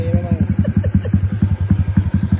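A black X1R motorcycle engine runs close by, its rapid, even thumping pulses steady throughout the short stretch.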